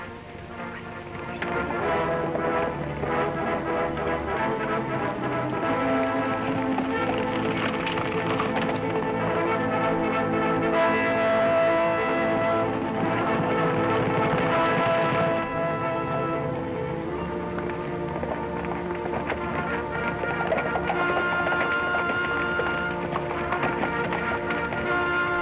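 Horses gallop in an old colorized western film, a steady clatter of hooves running continuously under a dense orchestral score.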